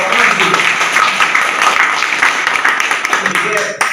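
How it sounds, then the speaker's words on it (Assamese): Audience applause for parents at a scholarship exam award ceremony at Cotton College, Guwahati: a dense, sustained crowd of clapping filling four seconds, with voices mixed in. "গোটেই অসমৰ ভিতৰত এই অভিভাৱকৰ বাবে আমি এটা জোৰে অকণমান হাত চাপৰি বজাইছোঁ"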